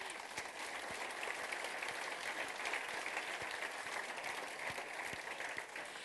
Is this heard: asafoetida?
no